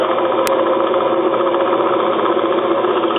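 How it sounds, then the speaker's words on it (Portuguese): A sewing machine motor drives the belt of a Van de Graaff generator. It makes a steady, close, continuous whirring hum with no break, and no one speaks. "Esse é um motor de máquina de costura, cujo movimento de rotação é transmitido através dessa correia para o eixo do gerador de Van de Graaff."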